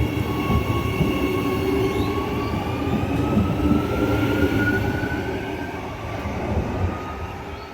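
A passenger train runs steadily on rails on an Adelaide to Perth journey, a continuous close rumble with faint wheel squeal tones drifting through, no talking.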